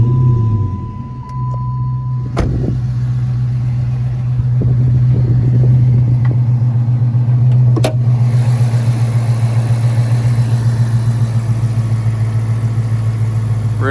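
A 2007 Dodge Magnum SRT8 with its 6.1-litre Hemi V8 at 47,695 miles cranks and catches with a sharp burst near the start, then settles into a steady, smooth, close idle that holds for the rest of the clip.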